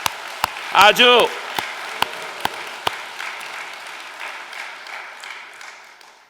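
A congregation at a Sunday worship service claps, starting with a few sharp, separate claps, then a brief spoken word from one voice, then a faint, thin spread of applause that trails off.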